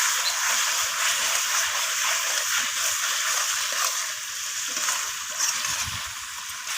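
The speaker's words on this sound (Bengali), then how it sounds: "তো রসুনটা দিয়ে আমি চিকেনের সাথে আবারও কষিয়ে নিচ্ছি" Chicken sautéing with garlic paste in a pan, a loud, steady, dense sizzle that continues without a break and dips slightly toward the end.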